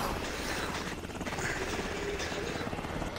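Helicopter in the video game Dead Rising 2: Off the Record, a steady loud rotor drone with engine noise, continuous throughout and partly under game sounds.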